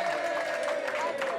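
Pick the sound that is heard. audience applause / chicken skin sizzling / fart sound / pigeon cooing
audience applause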